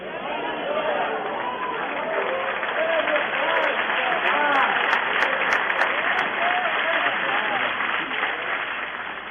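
Sustained applause from a large church audience during a sermon, dense steady clapping filling the whole stretch with a murmur of voices underneath.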